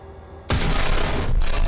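Heavy gunfire in the tank combat game War Thunder: a sudden loud blast followed by a continuous roaring rattle of shots that fills the remaining second.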